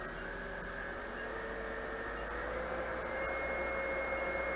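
An electric lathe motor driven by a variable frequency drive runs steadily, giving a constant whine with sustained high tonal hum and broadband hiss, close and even throughout, with no voices.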